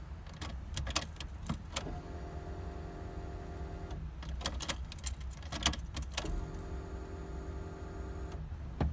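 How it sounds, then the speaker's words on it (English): A Walbro 255 fuel pump being primed in a Honda Integra gives two separate steady electric buzzes, each opening with sharp clicks, over a low constant hum. "once you install the fuel pump and get everything hooked up, you want to prime it 2 or 3 times"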